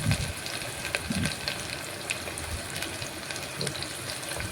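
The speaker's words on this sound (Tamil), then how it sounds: "வெங்காயம் போட்டாச்சு. வெங்காயத்தை நல்லா ஃப்ரை பண்ணிவிட்டு" Soft sizzling and crackling of onions frying in a pan, with a few clinks and light kitchen clatter over the steady hiss.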